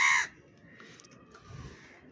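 A crow gives one loud, close, harsh caw at the start, followed by quieter outdoor background with faint distant chirps.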